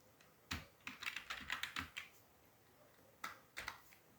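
Keystrokes on a stiff computer keyboard clatter in irregular bursts, a sharp clack, a quick flurry of several presses, a pause, then two more distinct taps, close and fairly quiet with no talking.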